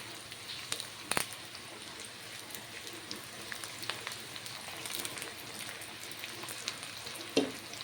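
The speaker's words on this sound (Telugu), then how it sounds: "కరేపాకు కూడా నూనెలో వేగుతుంది బాగా" Curry leaves and onions frying in hot oil while making a brinjal curry give a steady, faint crackling sizzle, broken by a few sharp pops and spatters near the start and end. No one speaks.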